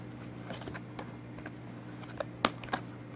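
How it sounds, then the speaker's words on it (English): Large, monster-sized Sirian Starseed tarot cards are shuffled, giving soft, irregular papery taps and flicks against a low steady hum, quiet and close. "And these are really big cards. They're sometimes hard to shuffle."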